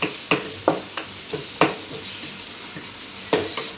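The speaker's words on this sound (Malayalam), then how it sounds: "സവാള ഒന്ന് മൂത്ത് വരാനായിട്ട് വേണമെങ്കിൽ കുറച്ച് ഉപ്പിടാം." Onions cooking with a pinch of salt in an aluminium pan, with sharp stirring scrapes and clinks recurring about every half second over a soft continuous sizzle, close and alone.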